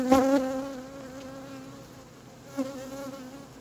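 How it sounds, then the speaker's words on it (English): Honey bees swarm densely inside a beehive box, a close, steady buzzing drone with a louder swell at the start and another brief rise near the end. "There are so many bees in here."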